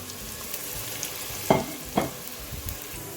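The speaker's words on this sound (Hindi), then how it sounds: "ऑयल गर्म हो जाए तो इसमें मैं प्याज ऐड करूँगी।" Chopped onions frying in hot oil, giving a soft continuous sizzle with two brief clinks or scrapes close together near the middle and no talk.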